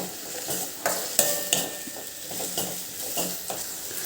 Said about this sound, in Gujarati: હવે આને આપણે 5 કે 6 મિનિટ માટે સાંતળીશું, જ્યાં સુધી આપણું તેલ છૂટું ના પડે ત્યાં સુધી એને સાંતળવાનું